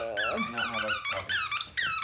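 A dog chews a squeaky toy close by, producing a fast series of loud, shrill squeaks in quick bursts.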